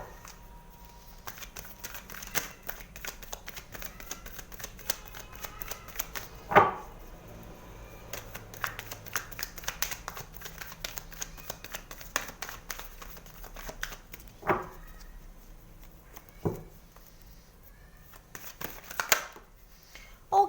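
Tarot cards shuffled and handled at close range, a faint run of papery riffles, flicks and soft taps with a few sharper snaps, with no talking.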